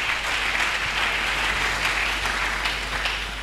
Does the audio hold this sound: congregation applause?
yes